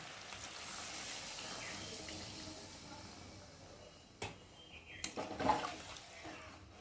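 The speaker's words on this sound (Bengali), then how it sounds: "আর এখন আমি জল দিয়ে ভালো করে ফুটিয়ে নেব।" Water poured into a pan of chicken curry: a steady soft rushing pour that fades, followed by a few clanks and knocks of a pot and utensil, quiet and close with no talking.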